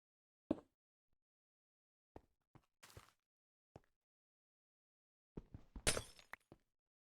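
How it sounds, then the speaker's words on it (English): Glass breaks in a video game: a few scattered sharp clinks and knocks, then a louder cluster of shattering crashes, close and separated by silent gaps. "Breaking glass sound. It's awful."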